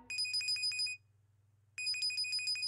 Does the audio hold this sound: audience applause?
no